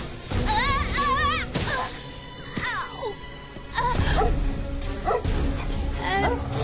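A dog yips and barks in several short bursts with whining, wavering cries between them, fairly close and loud.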